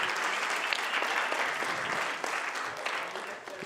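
An audience claps in sustained applause, a dense patter of many hands that fades slightly toward the end.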